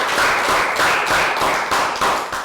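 Classroom applause in a Year 3 math lesson, a brisk burst of many hands clapping together, fairly loud and continuous with rhythmic swells, no talking over it.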